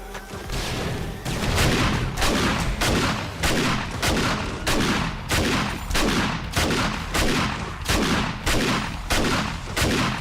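Rapid volleys of gunfire from a video game as a player shoots at a zombie horde, loud and steady, with sharp bursts repeating in a quick rhythm throughout and no talk.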